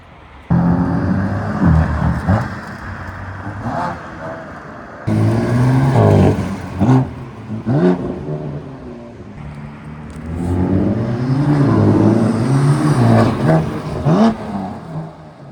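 A BMW engine revs hard on a downshift, with several sharp rising blips and roaring surges close by, each followed by a dropping whir, and no talking.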